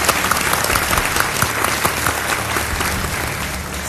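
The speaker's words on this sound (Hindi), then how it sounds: "तालियों के साथ आपका हम स्वागत करते हैं।" Studio audience on a televised quiz show applauds a guest walking on, a loud dense burst of clapping from many hands that stays steady throughout, with no talk over it.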